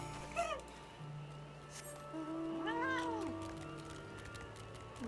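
A cat mount in the online role-playing game Final Fantasy XIV gives a couple of short meows over a steady low background hum, fairly faint, with no talking.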